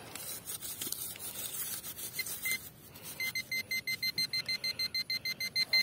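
Metal detector on a hillside emits a rapid series of pulsed electronic beeps in its second half, preceded by scraping sweeps through ground and brush; close and fairly loud, no voices.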